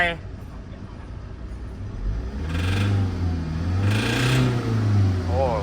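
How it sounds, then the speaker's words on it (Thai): A car engine with a stuck accelerator and faulty fuel injectors idles with a rough rumble, then swells into a sustained loud revving drone up close while someone talks over it. "มาดูอาการนะรถคันเร่งค้างนะครับเนี่ยรถคันเร่งค้าง"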